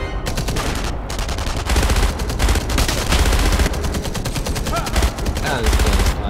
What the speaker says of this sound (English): And they need to quit shooting at me, damn it.